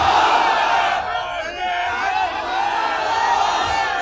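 A large crowd at an Islamic sermon shouts takbir in unison, a loud sustained roar of many voices that rises and falls over about four seconds.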